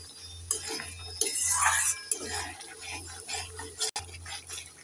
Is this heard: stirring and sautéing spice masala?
yes